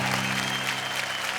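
A television show audience claps for a poet in a short, steady burst of applause over a low, humming musical bed.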